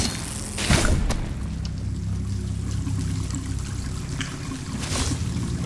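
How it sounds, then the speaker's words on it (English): In the Tails of Iron video game, water pours from a pipe onto the ground below, a continuous splashing trickle heard up close and steady throughout, with a few sharp knocks near the start. "For the water coming out of that pipe and hitting the ground below it."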